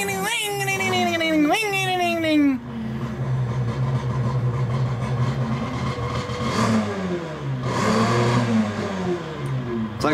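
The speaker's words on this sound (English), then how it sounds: "let me just rev the piss out of this constantly" A car engine revs up and down repeatedly in a loud, droning wail with rising and falling pitch, close by and continuous, with voices talking underneath part of it.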